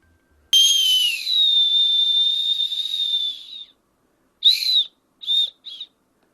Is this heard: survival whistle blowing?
yes